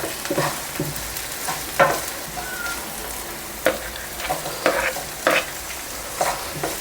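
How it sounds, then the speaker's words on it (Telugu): Green chillies and garlic frying over medium flame for vegetable manchurian gravy, a close steady sizzle punctuated by repeated sharp spatula scrapes and stirring knocks against the pan. "మీడియం ఫ్లేమ్లో పెట్టుకొని వీటిని వేయించుకోండి."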